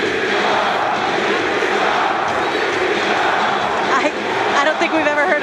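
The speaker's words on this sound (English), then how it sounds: "I don't think we've ever heard a crowd like this before" Loud, dense crowd roar at a freestyle wrestling event in Tbilisi, a sustained wall of cheering and shouting from a packed arena with a commentator's voice talking over it.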